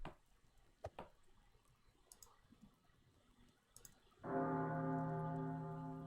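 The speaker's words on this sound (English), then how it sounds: "The early dinner bell." Dinner bell in the video game Hero-U: Rogue to Redemption rings out with a single strong, sustained metallic tone that lingers and slowly fades, following a few faint scattered clicks.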